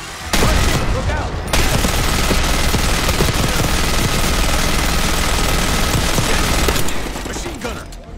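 Sustained automatic weapon fire in Call of Duty: Black Ops 6, loud and dense, with a brief break after the first second, then a continuous barrage for several seconds before tapering off, mixed with heavy battle din.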